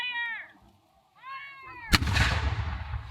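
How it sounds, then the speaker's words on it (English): A 6-pounder cannon fires at a War of 1812 reenactment at Fort Erie: a single sharp, loud boom that rolls into a long rumbling decay. Two thin, wavering high-pitched tones come before the blast. "That's the 6-pounder, the one at the end, that's the big gun."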